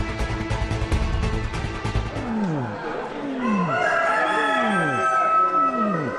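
A man imitates the cooing call of a male pigeon, repeating a series of soft, swooping coos after a burst of busy background noise.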